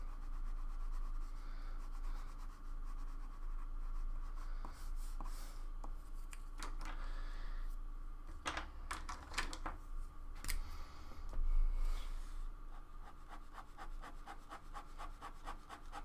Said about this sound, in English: I'm just using pencil, marker, ballpoint pen.